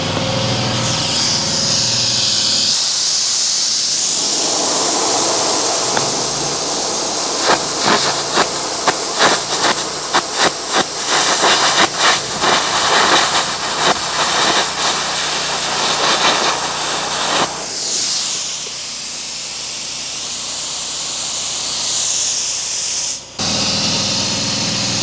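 Carbon arc gouging on a frame with the welder set to 250, a loud continuous roaring hiss with crackling bursts through the middle, ending abruptly near the end.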